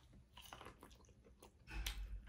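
Someone chews and bites through a seafood boil of crab with butter sauce, making soft, close, wet chewing sounds with a few crunchy bites, fairly quiet and with no talking.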